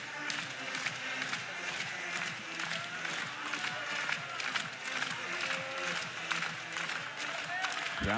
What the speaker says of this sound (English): Crowd getting into it.